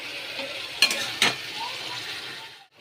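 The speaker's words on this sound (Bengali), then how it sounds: "এবার এটা একটু ভালো করে কষিয়ে তারপরে জল দেব।" Katla fish curry with potatoes is stirred and cooked down in hot oil, giving a close, steady sizzle with two sharp clanks of a spatula against the pan before the sound fades out.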